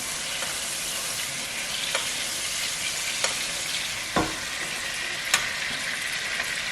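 Salmon sears in a hot pan while being basted, a steady dense sizzle and crackle with a few sharp spits and pops scattered throughout, heard close and alone with no talking.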